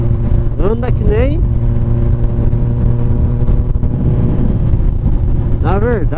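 A Honda CB 1000R motorcycle rumbles at a steady low idle through a straight-through exhaust, with sharp rev blips rising and falling near the start and again at the end, loud and close.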